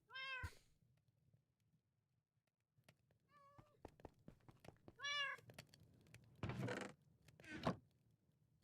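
Cat in Minecraft meowing several times, short separate meows spaced out over the stretch with quieter clicks and thumps between them.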